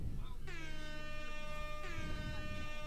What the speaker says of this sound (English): Why are my air horns so low?